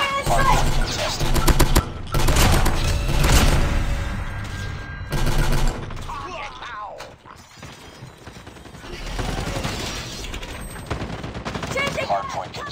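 Burst-fire shotgun blasts from the HS2126 in a first-person shooter game, loud rapid volleys in several clusters with gaps between, mixed with game sound effects and announcer callouts.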